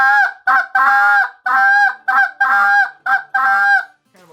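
A goose call blown in short honking spit notes that stretch into drawn-out moaning ends, about eight bursts in an uneven rhythm, loud, close and with no other sound.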